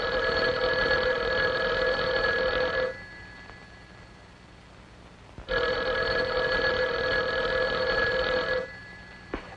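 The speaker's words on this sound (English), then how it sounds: "our phone is working perfectly. Can't you hear it ring?" An old-fashioned telephone bell rings loudly in two long bursts of about three seconds each, separated by a quiet pause, with a faint hum beneath.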